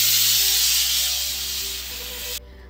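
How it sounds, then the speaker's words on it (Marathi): Pressure cooker on the stove in a home kitchen, venting a loud, continuous high steam hiss that fades slightly over a few seconds, with a faint steady hum beneath, then stops abruptly. "तर एकीकडे कुकरच्या शिट्ट्या होत आहेत"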